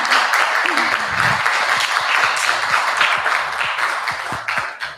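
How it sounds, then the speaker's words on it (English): An audience at a Caribbean Linked evening talk applauds its two speakers, dense steady clapping filling the whole stretch at fairly close range, with a brief voice and some cheering rising over the hands early on. "round of applause"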